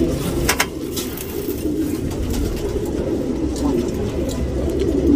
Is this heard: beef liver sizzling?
no